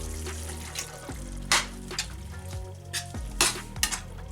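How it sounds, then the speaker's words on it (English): Ground meat sizzles and fries in a pot for chili con carne, a steady close crackle broken by several louder scraping stirs, with no voices. "The meat seems to be cooking good."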